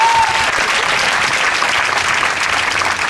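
A church congregation applauds loudly and steadily to acclaim God, a dense, sustained wash of clapping from many hands throughout, with a brief tone at the start.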